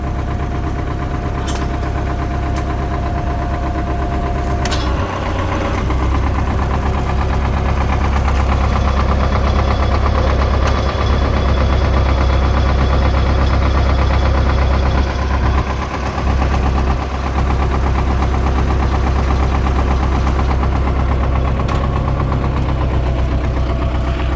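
A 1985 MTZ-80 tractor's heavy diesel engine idles steadily with a deep, knocking throb, close and continuous, with occasional small clanks.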